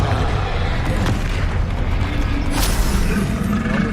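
A Confringo fire spell blast in the Hogwarts Legacy video game, loud booming impacts with a sharp crack near the start and another burst later, set against a thick continuous combat rumble.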